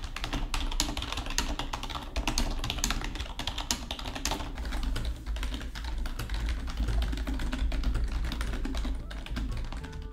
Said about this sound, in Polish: Dla porównania przedstawiam Wam głośność mojej poprzedniej klawiatury Logitecha K120 oraz klawiatury Apex 3.